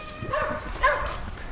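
Dogs, one of them a bloodhound, bark and yip somewhere outside at a moderate distance, with a few short sharp calls. A faint murmur of people underneath accompanies them.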